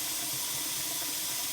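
Running tap rinsing calf fries, a steady close hiss of flowing water lasting the whole brief moment.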